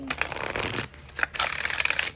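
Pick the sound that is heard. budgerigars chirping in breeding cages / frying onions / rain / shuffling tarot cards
shuffling tarot cards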